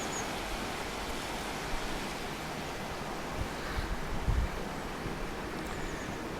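Steady broadband rush of a river flowing past the small Yorkshire Dales village of Hubberholme, a continuous watery hiss with occasional low thumps of wind on the microphone, no voices.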